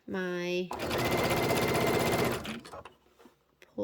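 A sewing machine stitching a crossbody bag runs in a steady rapid mechanical chatter for about two seconds, then stops; a voice talks before and after it, close by.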